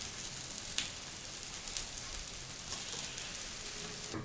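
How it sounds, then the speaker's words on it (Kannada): Paddu frying in oil in a paddu pan, a continuous soft sizzle and crackle with a few sharp pops, steady and close with no talking. "ಈಗ ಇಲ್ಲಿ ಪಡ್ಡು ಚೆನ್ನಾಗಿ ಡೀಪ್ ಫ್ರೈ ಆಗಿದೆ."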